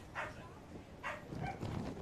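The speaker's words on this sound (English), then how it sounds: "And the background noise of barking and chatting" A dog barks a couple of times at a kart racing meeting, short yips standing out over a faint background of chatter and crowd noise.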